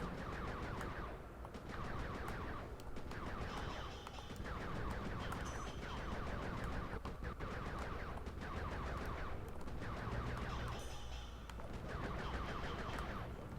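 Dense rapid gunfire from a turret-style gun in the video game Sly 3: Honor among Thieves, continuous bursts with brief pauses over busy game music and effects, no voices.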